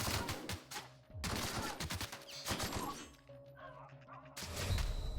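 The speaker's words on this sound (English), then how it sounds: "Who's shooting me?" Bursts of rapid gunfire from The Outer Worlds video game rattle in loud volleys separated by brief pauses, with thuds and impacts mixed in.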